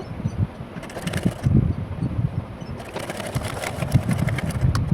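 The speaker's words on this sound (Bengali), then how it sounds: "এবার হাতাটা সেলাই করে নেব।" A sewing machine stitches a fabric sleeve for a potli-style sleeve design, running in steady whirring bursts with brief pauses between, close and fairly loud with no talking.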